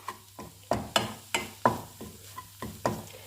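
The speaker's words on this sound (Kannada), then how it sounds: "ಮೊದಲು ನಾನು ಇವಾಗ ಎಗ್ ಫ್ರೈ ಮಾಡ್ತಾಯಿದ್ದೀನಿ ಇಲ್ಲಿ" An egg is fried in a pan for street-style egg Maggi, with a series of sharp scraping strokes of a spatula about every half second over a soft sizzle, close by and fairly quiet.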